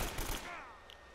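A short, faint burst of rapid AK rifle fire from the video game Uncharted: Drake's Fortune, a quick fusillade that fades out within about half a second.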